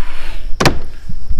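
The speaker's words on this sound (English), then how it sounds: "I'm gonna shut this door today." A farm door is shut with one loud, sharp slam partway through, followed by faint knocks and a steady background hum.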